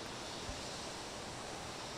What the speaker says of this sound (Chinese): 下方有一条很急的溪流，从这里都能听到哗哗哗的流水声